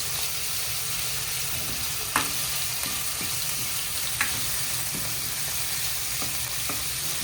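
Pork sautéing in a pan for ginataang langka, giving a loud, continuous, close sizzle with a few brief clicks of a utensil against the pan.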